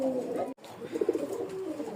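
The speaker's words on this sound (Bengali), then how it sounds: "তো এখানে দেখতে পাচ্ছেন একজোড়া গোল্লা কবুতর ডাকাডাকি করতেছে।" A pair of native Golla pigeons, a male and a female with red beaks, coo softly at a farm in rural Bengal, with low rolling murmurs that pulse through the clip and a brief dropout near the middle.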